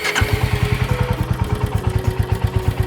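A Royal Enfield Bullet motorcycle engine thumps at a steady, even low beat close by, running alone with no talk.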